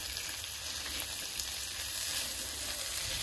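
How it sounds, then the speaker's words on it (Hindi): Garlic and ginger fry in a pan for a paneer dish with a soft, even crackle close by. The hiss stays fairly quiet and constant, close to a rain-like patter, with no voices. "तो ये हमने लहसुन भी डाल दिया, और अदरक, और इसको थोड़ा सा कर लेते हैं मिक्स"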